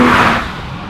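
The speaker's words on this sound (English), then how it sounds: "This is a regular exhaust, a stock exhaust, not even a sports or performance exhaust" A BMW M4 engine running through its stock, non-performance exhaust, a loud broadband roar close by that eases slightly over under a second, with no talk.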